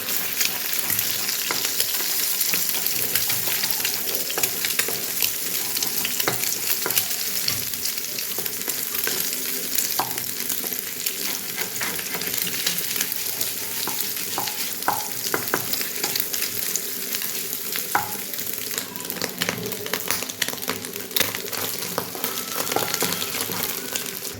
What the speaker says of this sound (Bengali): এখানে আমি সাদা তেল নিয়ে নিয়েছি। ডিমটা ভুজি বানিয়ে নিচ্ছি।